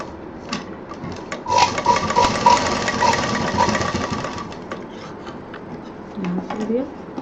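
A sewing machine stitches a lightly folded cloth edge in a rapid mechanical run lasting a few seconds, with a voice talking around the stitching.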